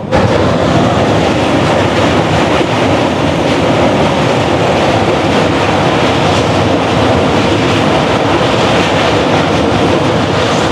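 A train crosses the Mahanadi river bridge with a loud, continuous rumbling roar and a rattling clatter of wheels, heard up close from on board without pause.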